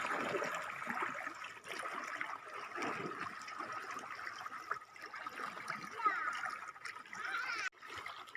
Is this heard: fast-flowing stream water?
yes